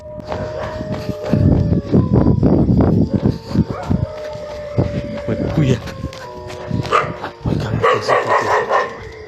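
Several dogs bark repeatedly at night in Santa Cruz, loud and fairly close, with overlapping yips and howl-like calls while people talk over them.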